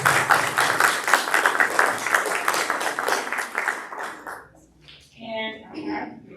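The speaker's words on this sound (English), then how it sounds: "we want to give them a round of applause" Audience applause at a Highland Home JAG ceremony, a crowd clapping steadily for about four seconds before it fades out and a person starts talking.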